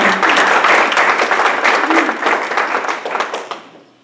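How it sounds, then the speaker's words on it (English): Room of Rotary Club members in Batesville, Arkansas clapping to mark the club's 75th year, brisk close applause that holds steady then tapers off over the last second. "So I think we all deserve a round of applause and congratulations."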